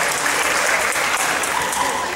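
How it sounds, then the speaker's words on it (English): An audience at a high school AVID signing night applauding the AVID students, with sustained, dense clapping filling the room. "Everybody, please give all the AVID students a hand."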